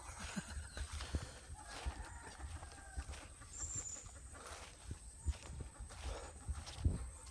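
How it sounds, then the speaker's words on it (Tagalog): A carabao (water buffalo) walking outdoors, its hooves giving irregular soft thuds and scuffs close by over a busy rural background. "May kalabaw."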